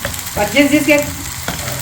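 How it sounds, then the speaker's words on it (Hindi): Garlic and ginger tempering (tadka) sizzling in hot oil in a home kitchen, a close, steady frying hiss beneath a woman's brief speech. "लहसुन को तड़का लगा हो, अदरक को तड़का लगा रहे हो"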